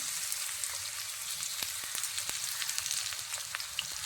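Cut pieces of ripe banana frying in hot coconut oil, giving a steady, close crackling sizzle with scattered small pops, heard alone without voices.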